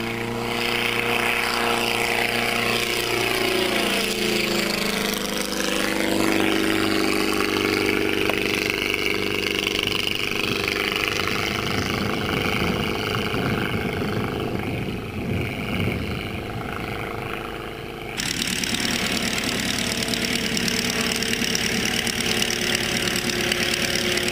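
A Lobet Ganagobie light aircraft makes a low pass, its throaty engine a loud, continuous drone that rises and falls in pitch as it passes, with a change in tone near the end.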